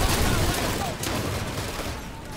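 Bursts of gunfire crackle through a free online shooter game about three races battling to seize planets, continuous and fairly loud, with someone talking over it.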